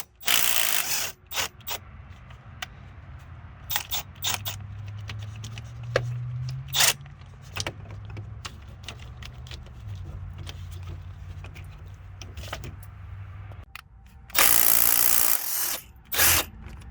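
An M12 right-angle power tool backs out AC compressor bolts on a truck on a cold day: a steady motor whir runs for several seconds between ratcheting clicks and clanks, with louder bursts near the end.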